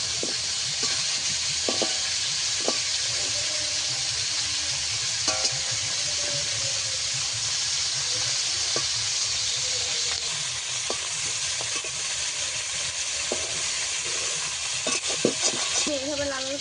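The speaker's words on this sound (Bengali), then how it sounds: "যে মাছের মাথাগুলো ভালোভাবে ভাজা হয়ে গেছে, তবু আমি আরও একটু ভেজে নেব" Fish heads fry in hot oil for a village-style fish curry, a continuous close sizzle and hiss with scattered clicks and scrapes from turning in the pan, no talking.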